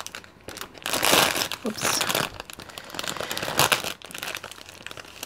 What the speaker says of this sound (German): Das ist, werde ich mir das hier mal auspacken.